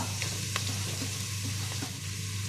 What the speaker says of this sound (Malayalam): അപ്പോൾ അതിനകത്തോട്ട് എണ്ണ ചൂടായിട്ട് വരുമ്പോൾ ഞാൻ സവാള ഇട്ട് കൊടുക്കുകയാണ്